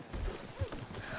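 Horse hooves clip-clop in Red Dead Redemption 2 as riders arrive at a town street, a short run of soft, close thuds with a brief louder strike in the middle and faint ambient noise behind.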